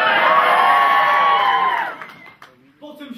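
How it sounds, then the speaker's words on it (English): A concert crowd up in the top shelf seating cheering and whooping loudly at a house concert, sustained for about two seconds before dying away, followed by a few scattered shouts. "can we get a big cheer from the top shelf?"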